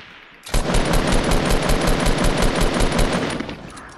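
Sustained automatic gunfire in a squad shooter game, a loud rapid rattle of shots starting abruptly and running steadily for about three seconds before cutting off.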